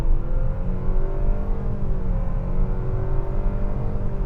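A 2025 Nissan Kicks with a CVT accelerating at full throttle, a steady rising engine drone with a droning whine climbing in pitch, heard from inside the cabin, loud and continuous without talking.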